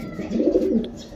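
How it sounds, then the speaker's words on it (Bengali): A Giribaz pigeon gives one short, close, throaty coo in a rooftop aviary, a soft low rolling call lasting about a second. "গিরিবাজের এই নটটি মাশাআল্লাহ সেই রকম ডাকতেছিল"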